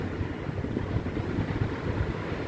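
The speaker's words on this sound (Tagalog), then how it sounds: "Malakas ang hangin eh." Strong wind buffets the microphone in a constant low roar with gusty rumbling and no voices.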